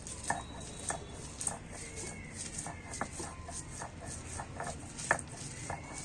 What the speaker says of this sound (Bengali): কাঁচা লঙ্কা শুদ্ধ বেটে নিচ্ছি শিলে